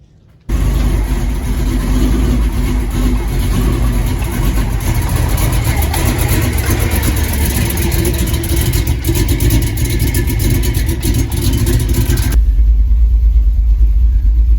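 A 1979 Chevrolet El Camino with a 350 small-block V8 starts up and rumbles steadily while driving, a loud continuous engine drone with a low idle rumble after it eases off.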